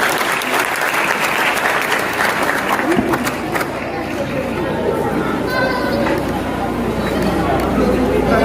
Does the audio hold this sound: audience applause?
yes